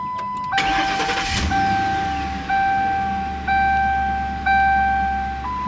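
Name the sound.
2011 Ford Crown Victoria engine starting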